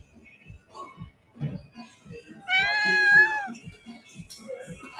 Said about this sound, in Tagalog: Pero meow siya ng meow.